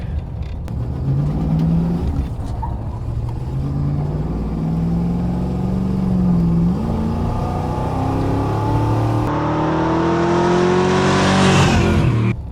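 A Mopar 318 V8 fitted with an 850 CFM Thermoquad carburetor revs loud and close, its tone climbing steadily through a long pull, dipping briefly, then surging higher to a peak before cutting off.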